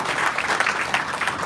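Audience at a women's retreat claps and applauds steadily and densely throughout, a continuous close wash of many hands with no pauses.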